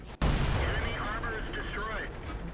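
A tank cannon fires once in the World of Tanks game, a sharp close boom followed by a steady engine and track rumble with whining mechanical tones.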